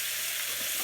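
Minced garlic dropped into a whole stick of melted butter sizzling in a pan, giving a steady, close, bright frying hiss with no break throughout.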